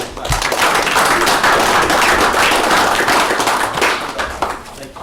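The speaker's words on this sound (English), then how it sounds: "let's give him another round of applause" Sustained applause from a meeting audience, dense steady clapping at full strength that thins slightly toward the end, with no talk over it.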